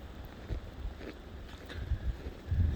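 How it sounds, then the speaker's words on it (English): Gusty wind in a Michigan snowstorm buffets the microphone with low rumbling bursts, a steady blustery roar swelling near the end. "It's windy."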